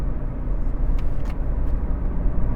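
A 2014 Ford Fiesta 1.5 TDCi Zetec with a five-speed gearbox driving on a motorway, a steady low road and engine rumble heard from inside the cabin with no talking.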